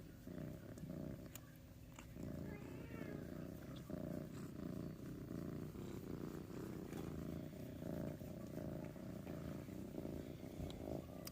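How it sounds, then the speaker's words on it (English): Kitten purring steadily while its belly is petted, a low continuous rumbling throughout, close but faint. "He'll just start purring, but I think you can hear him purring because I'm petting his belly."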